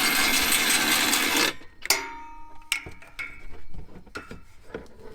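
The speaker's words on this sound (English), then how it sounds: "So now I'm just gonna take the 21mm and just tighten all those bolts up." A 21mm socket ratcheting as it tightens the bolts of a Mopar trailer hitch on a 2014+ Jeep Cherokee Trailhawk: a loud noise burst cuts off, then sharp metallic clicks and clanks follow at irregular intervals, close and without talk.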